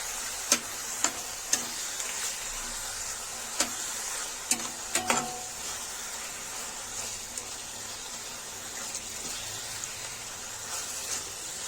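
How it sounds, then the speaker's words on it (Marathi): Onions fry over low gas until golden, a quiet steady sizzle with scattered sharp ticks and clicks from stirring, close and with no voices. "आता आणला कांदा जो आहे गोल्डन रंगावरती येऊपर्यंत चांगल्याला फ्राय करायचं आहे"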